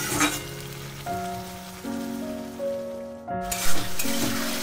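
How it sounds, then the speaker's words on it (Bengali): Ingredients for vegetarian papad dalna frying uncovered in a pan, a dense continuous sizzle like rain on a surface, fairly loud and close, with a faint tonal hum in the background and no speech. "আমি ঢাকা ছাড়াই সবকিছুকে বেশ ভালো করে ভেজে নিচ্ছি।"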